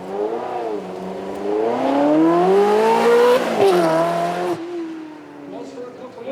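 A Ferrari 3.6 litre V8 with 400 horsepower runs on a track at a supercar weekend, its engine note loud and near, climbing and falling in pitch as it revs, then fading away.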